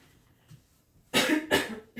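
A woman coughs and clears her throat, a few harsh close bursts after a quiet pause, with no speech.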